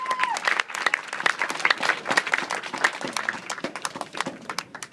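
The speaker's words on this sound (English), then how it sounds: "Come on, give them a round of applause." Audience at a comedy panel breaks into lively applause, a crisp, moderately loud patter of many hands clapping steadily throughout with a few scattered voices mixed in.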